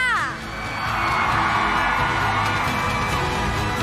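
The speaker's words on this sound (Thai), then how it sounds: "ขอเสียงกรี๊ดกันดะให้กับเจมส์มาร์มากกราศีและมินชลิดาค่ะ" A large crowd screams and cheers loudly and continuously at a television channel's anniversary opening show, with a voice calling out at the start over the roar.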